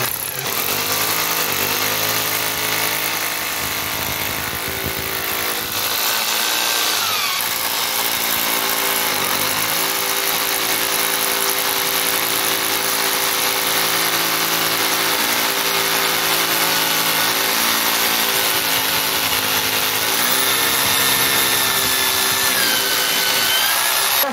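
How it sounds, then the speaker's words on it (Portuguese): A power drill with an 8 mm bit bores a hole while a toilet is being fitted, giving a loud, steady whining drone that runs unbroken for the whole stretch with no voices. "Então eu vou furar primeiro com a broca, com a broca 8."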